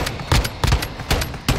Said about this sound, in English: He's shooting at someone.